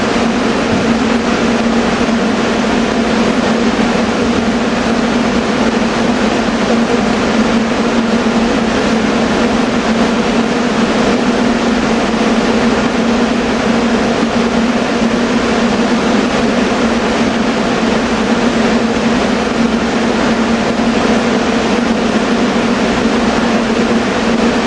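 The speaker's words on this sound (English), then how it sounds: "And he's an express going into Philadelphia. They'll be taking off and zipping right through the next several stations." An express commuter train at Paoli bound for Philadelphia gives a loud, continuous rumble with a steady tonal hum, droning on without a break through the whole stretch.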